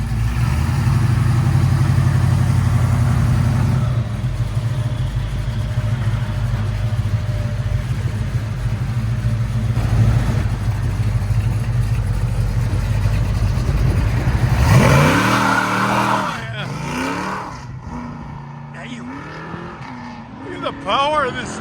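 A Ford Mustang Mach 1 with a 410 V8 rated at 510 horsepower roars with a deep, loud sustained engine drone, then revs and accelerates hard with rising and falling pitch sweeps in the last few seconds.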